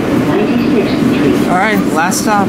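A southbound Second Avenue Line subway train passing through 96th Street station rumbles loud and near with a steady roar and squealing wheel tones, while someone speaks over it.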